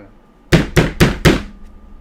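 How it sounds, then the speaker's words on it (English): Four loud, evenly spaced heavy thumps of someone banging on a door, played as a sound effect in a sci-fi horror tabletop game session, close and alone. "There's banging on the door."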